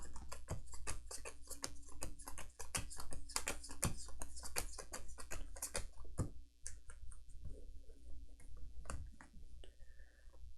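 Arkham Horror card game cards are pile shuffled, with a steady run of crisp taps as cards are dealt one by one onto piles, close and fairly quiet, thinning out toward the end, with no talking.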